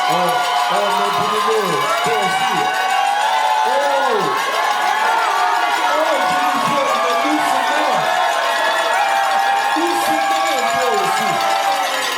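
Wedding guests in Gabon clap and cheer in a dense, sustained roar of applause with scattered whoops and shouts, loud and continuous throughout, with voices mixed into the crowd noise.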